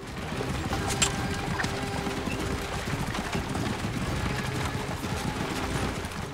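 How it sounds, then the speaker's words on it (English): A horse-drawn chariot rolls along in Assassin's Creed Origins, with continuous clattering hoofbeats and rumbling wheels forming a dense, steady bed of sound and no talk. "This horse chariot's not the fastest"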